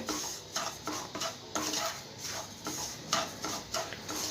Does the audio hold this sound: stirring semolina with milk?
yes